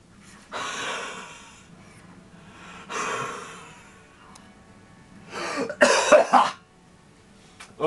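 A person coughs in several harsh, breathy bursts, with two separate fits and then a louder, more strained cluster mixed with laughter-like gasps, close to the microphone.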